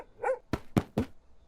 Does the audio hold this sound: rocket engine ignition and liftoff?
no